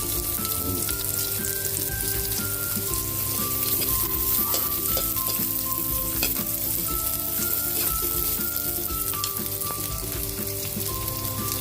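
Onions frying in a pan, a steady dense sizzle and crackle with light stirring scrapes throughout, close and loud with no talk.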